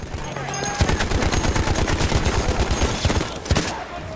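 Rapid gunfire in Battlefield 1, a World War I shooter set in the trenches: steady bursts of automatic fire with sharp single shots mixed in, loud and continuous throughout.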